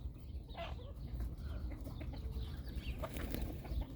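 Chickens clucking softly at a distance, with occasional brief calls under a steady low rumble of background noise.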